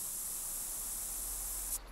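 Scent spray applied in theHunter: Call of the Wild during a bison hunt: a steady, bright hiss runs unbroken for nearly two seconds, then cuts off abruptly near the end.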